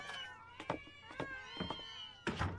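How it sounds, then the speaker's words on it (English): Several cats meow in short, repeated calls, close and fairly loud, at an animated gathering where many cats roam about. "Kitties, kitties, kitties! And more!"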